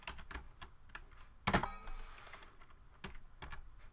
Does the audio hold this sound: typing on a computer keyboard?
yes